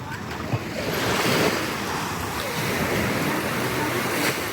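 Calm ocean waves wash onto the beach at Playacar, Playa del Carmen, Mexico, a steady broad rush of surf with some wind buffeting the microphone, close and continuous.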